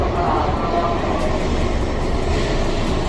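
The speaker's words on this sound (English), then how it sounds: "We're here in the Shinosaka station and we're going to catch a bullet train to Kyoto." A Shinkansen bullet train rushes past at Shin-Osaka station, a loud, steady roar of rail noise with a broad rumble that holds constant throughout.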